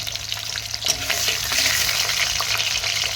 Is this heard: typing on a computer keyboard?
no